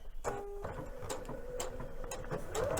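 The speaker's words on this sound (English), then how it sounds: "we're going to sew right through our triangle, back stitching at the very beginning and the end" Sewing machine stitching through a fabric triangle, a close mechanical whir with rapid ticking needle strokes and a brief higher motor tone near the start.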